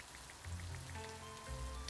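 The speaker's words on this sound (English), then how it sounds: "Rain sounds are making it cozier." Rain falling in the cozy farming game Littlewood, a steady soft patter of drops with light gentle game music tones beneath.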